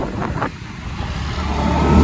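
Motorcycles ride at speed through the streets of Lahore, Pakistan, with a close, loud engine roar and road noise that builds steadily toward the end.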